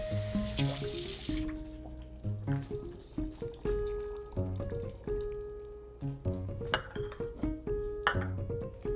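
Water poured into a pot of pollo fritada on the stove, a running, splashing stream with light clinks of pot and utensils throughout.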